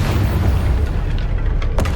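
A spell blast in the Hogwarts Legacy video game booms as a loud, dense, low rumble that fills the whole moment, capped by a short sharp crack near the end.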